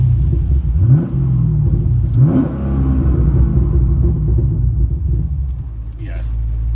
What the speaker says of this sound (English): I obviously don't rev it like that when it's cold